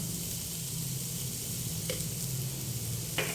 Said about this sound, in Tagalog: Siyempre kailangan natin haluin para lumasa lahat ng slice ng carrots.